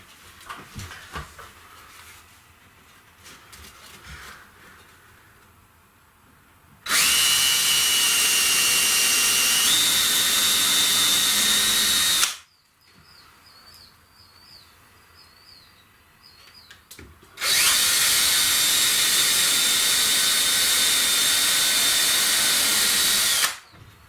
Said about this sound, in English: let's get some pre-drilling done